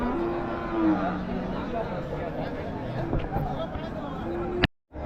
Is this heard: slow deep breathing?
no